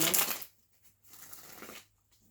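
Tarot cards being shuffled by hand in two short bursts, a louder riffle first and then a softer one after a brief pause, close and alone with no talk.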